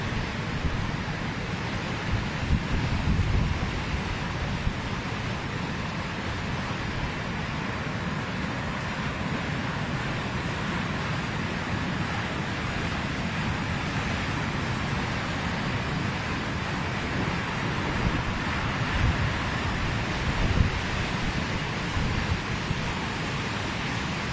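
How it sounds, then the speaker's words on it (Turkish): A storm of heavy rain and strong wind during a flood and hailstorm in Köse, Turkey, a steady dense roar of broadband noise that stays unbroken and loud throughout. "önce yağmur yağışı olarak başlayıp daha sonra şiddetli rüzgarla birlikte gerçekleşen"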